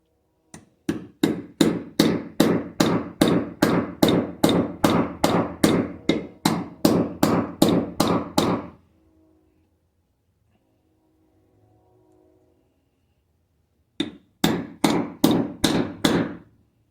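Steady metal-on-metal hammer blows drive a U-joint cap into the yoke of a 1992 Ford F150, a fast even run of about seventeen sharp strikes, a pause, then a shorter burst of five or six more, close and loud.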